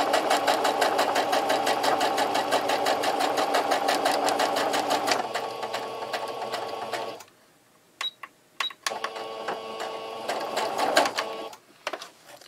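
A sewing machine stitches terry cloth sponge fabric, running steadily for several seconds, then stopping and restarting in short bursts with brief clicks and pauses between runs.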